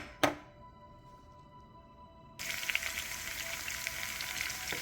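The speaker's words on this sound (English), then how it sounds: "Got a little onion and peppers, some tomato. So what I'm gonna do, I'm gonna caramelize these first." Onion, peppers and tomato hit a hot pan: after a brief clunk and a quiet pause, a sudden bright sizzle starts and keeps crackling steadily at close range.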